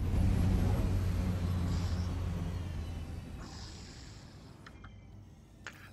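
A landed spaceship in Star Citizen powers down its engines, a low rumble fading out over several seconds and leaving a thin hum and a few faint clicks.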